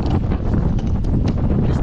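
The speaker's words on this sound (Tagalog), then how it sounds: "Hangin po mga toto." Strong wind buffets the microphone in a steady, loud roar with gusty rumbling throughout.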